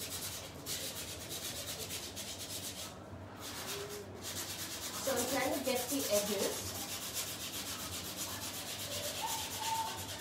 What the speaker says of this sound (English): Now the other thing with sanding is that your paint will end up looking a bit dusty